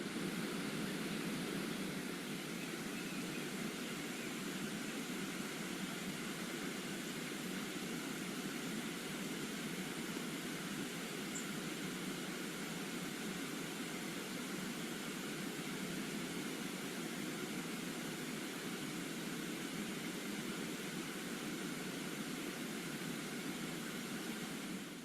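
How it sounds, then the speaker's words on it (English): A swarm of blackflies in New Hampshire makes a dense, continuous, even buzz like a soft hiss that fills the whole stretch without pause, faint and steady, with no voices. "The sounds you hear are the flies."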